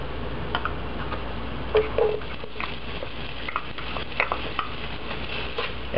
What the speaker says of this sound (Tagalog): Once na mainit na yung cooking oil, igigisa lang natin yung bawang.